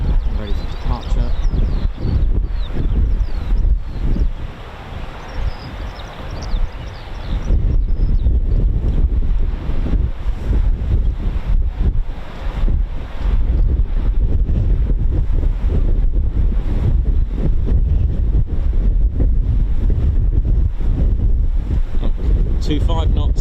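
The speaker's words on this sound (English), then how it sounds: "The wind has picked up another 4 knots" Strong wind buffets the microphone at an RAF airfield, a loud, continuous roar with gusty swells throughout, while someone talks over it.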